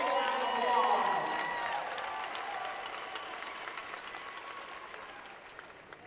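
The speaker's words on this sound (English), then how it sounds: "give me a big high five, big round of applause" Applause and cheering from a gymnastics competition crowd, loud at first and then slowly thinning into a steady patter of clapping that fades over several seconds.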